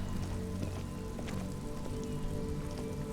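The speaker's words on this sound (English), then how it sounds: "It's raining again." Rain falls in the video game Disco Elysium, a soft steady patter with scattered faint drips and taps, fairly quiet and continuous.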